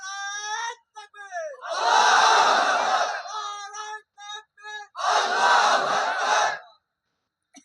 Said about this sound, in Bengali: মাঝখান থেকে একজন আল্লাহর নামে তাকবীর দেন তো।